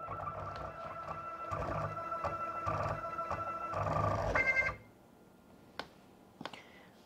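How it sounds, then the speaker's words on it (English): A CNC machine runs a 3D machining job after a spindle install, giving a steady rhythmic mechanical whir with repeated pulses for several seconds before stopping, followed by a few isolated clicks in near quiet. "22 minutes of machining"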